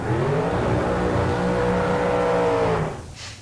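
Bracket race cars at a drag racing event fire up and rev, a loud, sustained engine roar held steady for about three seconds before cutting off abruptly.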